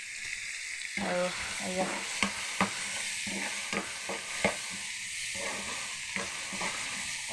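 Maggi masala frying in a hot pan, a steady broadband sizzle with repeated scrapes and clinks of stirring throughout, while a voice speaks briefly over it.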